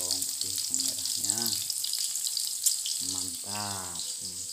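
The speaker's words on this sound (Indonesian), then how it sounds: "Saya goreng dulu matang-matang" Young bamboo shoots fry in a pan, a constant bright high sizzle running throughout while a person talks over it in short phrases.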